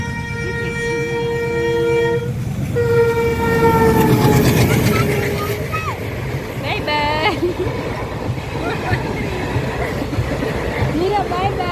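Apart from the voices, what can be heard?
train passing on rails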